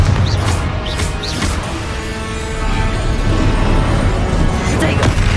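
Confringo spell explosions in Hogwarts Legacy combat, a steady roar of booming blasts and crashing impacts with a few sharp whooshing casts over dense battle noise, loud throughout.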